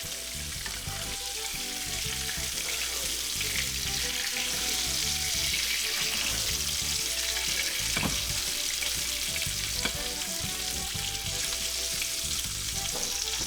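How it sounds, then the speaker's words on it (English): Butter sizzles and crackles steadily in a pan as it is spooned over red snapper, an even frying hiss with occasional sharper pops, close and unbroken with no voices. "tilt the pan to one side, just start throwing that butter right on top of your fish"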